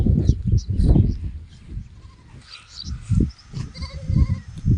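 A flock of sheep grazing in the open, several loud, close bleats in uneven bursts with quieter calls between them and faint background noise, no talking.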